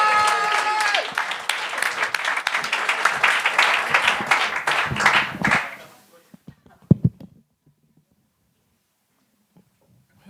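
A studio audience at a televised talent show gives loud, dense applause for the comedian closing the show, keeping up for several seconds before it cuts off abruptly. A few faint thumps follow in near silence.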